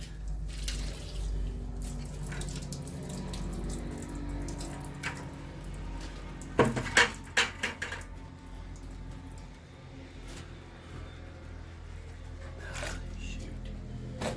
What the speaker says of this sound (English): Let's see if we can rinse that out a little bit.